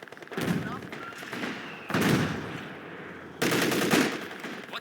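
Heavy machine gun fire in the video game Company of Heroes 2, three long bursts of rapid rattling shots separated by short pauses, loud and close against a busy battlefield backdrop.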